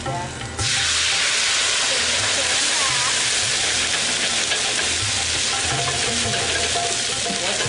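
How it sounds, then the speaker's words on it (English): White wine hits a hot pan over browning food in a bistro kitchen, setting off a loud, steady sizzle and hiss that bursts in suddenly and holds strong throughout. "we're going to hit it with some white wine once again, and be careful with the hot pan and wine"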